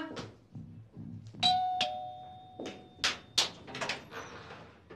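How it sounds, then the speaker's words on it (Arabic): A doorbell rings indoors with two bright sustained chime tones ringing out clearly, mixed in among nearby knocks, thumps and brief movement noises, fairly close. "شوفي الجرس بيضرب"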